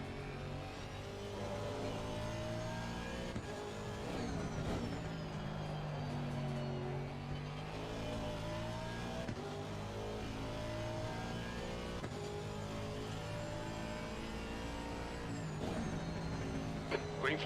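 A V12 race car in Assetto Corsa Competizione, its engine steadily revving and climbing through gears in loud sustained sweeps, with someone talking over it now and then.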